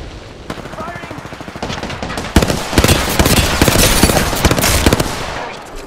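Rapid automatic gunfire in the battle royale shooter Apex Legends, loud and close, with dense rattling bursts that build into sustained continuous shooting and a voice speaking underneath.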